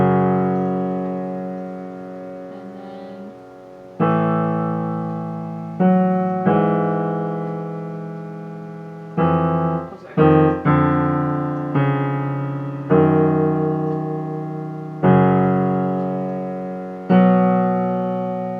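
Left-hand part of the Adagio Sostenuto from Rachmaninov's Piano Concerto No. 2 played on solo piano: sustained low chords struck one after another, each ringing and decaying, close and loud, with a brief spoken word near the start.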